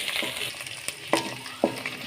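Chopped onion frying in hot oil in a pan while cooking a dhaba-style cauliflower sabzi, a soft steady sizzle with a few sharp stirring clatters of a spoon against the pan.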